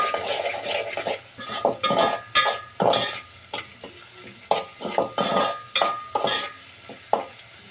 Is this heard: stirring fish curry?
yes